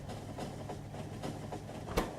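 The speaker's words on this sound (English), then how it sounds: "we're going to hop on a moving train and hopefully not get run over" A train moving on rails in the video game Factorio: a faint, steady rolling hum with soft repeating clacks at a regular rhythm, capped by one sharper knock near the end.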